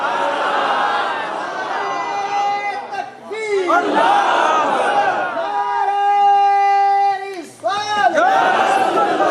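A large crowd chants a religious slogan in unison at an Islamic sermon gathering, many voices rising and falling in loud, sustained bursts with brief breaks between calls.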